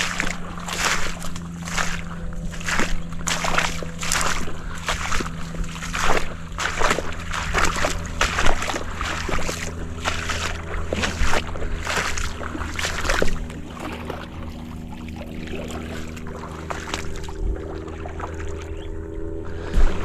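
Water sloshes and splashes rhythmically as it comes into a boat in steady repeated surges, over a constant low engine hum.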